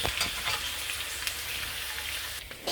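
Onions frying with a teaspoon of salt in a pan, a steady close hiss of sizzling broken by occasional soft stirring scrapes, with no voices.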